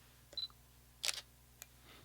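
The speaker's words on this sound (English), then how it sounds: "if slightly loud, mechanical shutter sound" A Fujifilm X-E4 mechanical shutter release, a crisp, fairly loud click near the microphone, with a softer small click before it and a faint tick after, in an otherwise quiet room.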